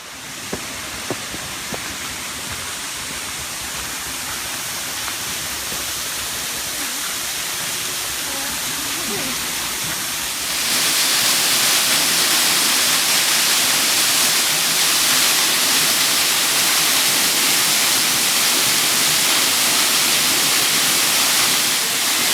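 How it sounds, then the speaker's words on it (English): Waterfall on the Gold Coast, Australia, roaring as a steady broadband rush that swells louder and brighter partway through as it is approached, with a few faint knocks early on. "let's have a look at this waterfall"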